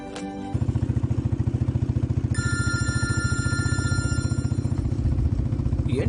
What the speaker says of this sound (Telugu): ఏంటి అర్ధరాత్రి అప్పుడు నాన్న ఫోన్ చేస్తున్నారు?